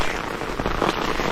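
Heavy rain pours down outdoors in a dense, hissing wash of drops that stays even and unbroken through a brief moment.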